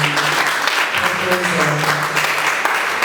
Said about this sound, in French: est-ce qu'on peut applaudir les deux institutions qui proposent